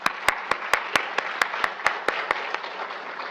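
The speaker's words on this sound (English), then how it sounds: "let's give her a round of applause" An audience at an evening health lecture on seizures claps to welcome the main speaker, with sharp, evenly spaced claps ringing out over a steady bed of applause that carries on throughout.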